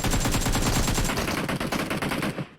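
Loud gunfire from PUBG Mobile on the Erangel map, rapid automatic bursts fired close up, first in one dense stream and then in choppier volleys before cutting off.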